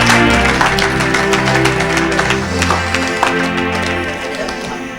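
A church congregation acclaims the Lord with a dense wash of clapping and cheering, mixed with sustained musical or vocal tones, loud at first and fading slightly toward the end.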